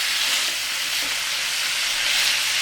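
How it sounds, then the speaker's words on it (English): Onion sautéing in a pan for a cabbage stir fry gives off a steady, bright close hiss, even and unbroken throughout. "Have to keep sauteing, let the onion cook"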